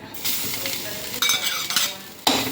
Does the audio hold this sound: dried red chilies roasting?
yes